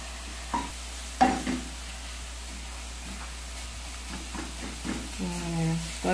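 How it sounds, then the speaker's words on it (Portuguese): Garlic sautés in a pan for rice with carrots, giving a soft, low sizzle broken by sharp scrapes and clinks of stirring, while someone talks quietly. "Tô aqui ainda refogando o nosso alhinho."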